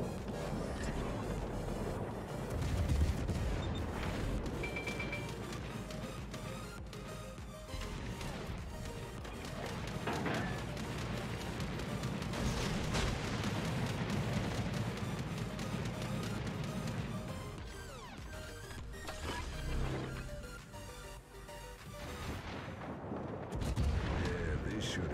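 Warship naval guns booming in the World of Warships game during a cruiser battle, dense gunfire and heavy impacts over a constant roaring mix of engine and sea noise, loud and continuous.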